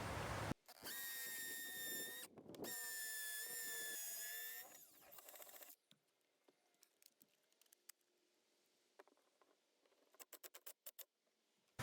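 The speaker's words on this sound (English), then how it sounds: "that is where I'm going to drill my hole" Power drill boring a hole into a house foundation for a window well, a loud whining burst of about two seconds, then a second run with stops, followed by quieter scraping and tapping.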